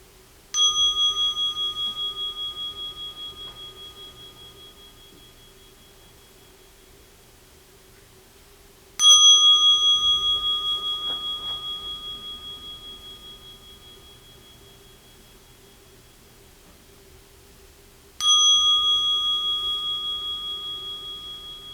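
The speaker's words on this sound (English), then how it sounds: "So now we'll begin our sitting meditation with 3 sounds of the bell." A meditation bell is struck three times at slow, even intervals about nine seconds apart. Each strike rings out clearly and fades slowly in a quiet room with only a faint low hum beneath.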